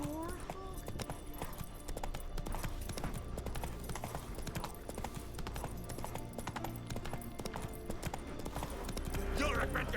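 Horse hooves clip-clop at a steady trot in the video game The Witcher 3, a continuous rhythmic clatter over game ambience, with a brief whinny near the end.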